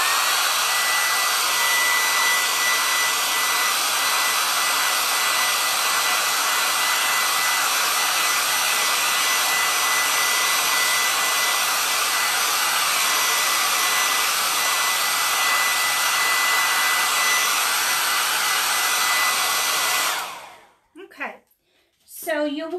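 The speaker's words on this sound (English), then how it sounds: "Okay, I'm going to get my hair dryer and give this a little bit of a dry" A hair dryer on a warm setting blows steadily up close, drying a chalk transfer on chalkboard art, a loud continuous rushing hum that cuts off near the end, followed by brief faint sounds.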